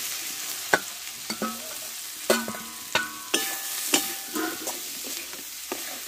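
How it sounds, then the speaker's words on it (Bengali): Potatoes and yardlong beans fry in a pan with cooked-down spice paste, quiet sizzling under a spatula that clicks and scrapes against the pan in irregular bursts, close and fairly soft, with no talking. "এবার কষে রাখা আলু আর বরবটিগুলোতে দিয়ে দেবো"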